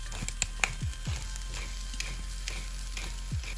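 Chopped dried apricot, crushed caraway seeds, salt and pepper cook together in a pan for a stuffed acorn squash filling. A steady, fairly quiet sizzle runs throughout, broken by a few sharp clicks and scraping stirs, with no talking.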